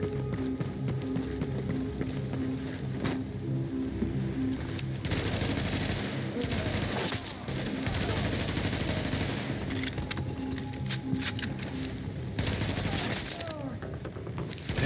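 Gunfire rattles in The Division during the Subway Morgue mission on Xbox Series X, with dense bursts and shots over a rumbling game soundscape that runs almost continuously, and a voice talks over parts of it.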